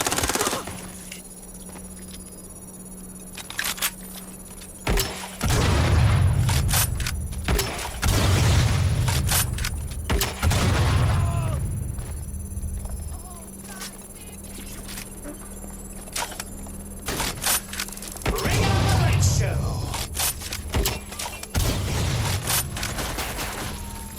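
A deployed turret firing in the video game Watch Dogs: Legion, with long bursts of rapid automatic gunfire and heavy booms alternating with quieter gaps, loud and close throughout.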